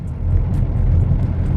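A Maruti Suzuki Baleno engine in third gear takes throttle and accelerates, a loud, steady, close-up hum with a low rumble throughout.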